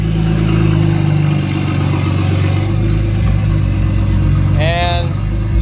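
A single turbo BMW F80 M3 pulling hard through the gears, a loud, steady engine drone heard from inside the car, with a voice speaking briefly over it near the end.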